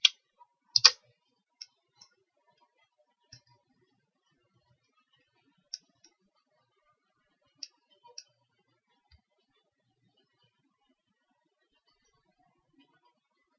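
Computer mouse clicking while a website template is browsed and edited, a handful of sharp, isolated clicks spaced irregularly across a quiet stretch, with a quick double click near the start.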